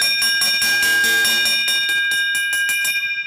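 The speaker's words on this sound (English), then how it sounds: "Bell lap" A handbell rings rapidly and insistently at a speed skating championship, marking the final lap. The clangs come loud and close in a steady rhythm, with no speech heard.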